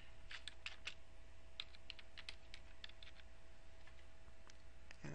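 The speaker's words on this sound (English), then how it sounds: "So by typing in Alice Walker" Typing on a computer keyboard into a search field, a quiet run of irregular clicking keystrokes in short bursts over faint background hum.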